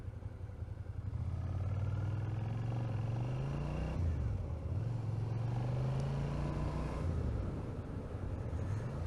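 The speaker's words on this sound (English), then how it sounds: "you can hear my engine going" A motorcycle engine drones steadily close by, its pitch rising and falling as the bike speeds up and eases off, with wind noise over the top.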